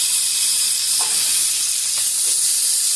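Spicy chicken wings fry in hot oil with a loud, constant, dense sizzle and faint crackles, close up and uninterrupted by talk.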